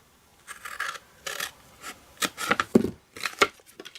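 Scissors or a blade cutting through card up to a score line while making a paper candy dispenser, heard as several short, crisp snipping and rasping bursts spaced irregularly, close and fairly quiet, with no talking.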